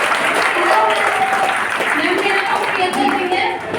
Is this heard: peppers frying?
no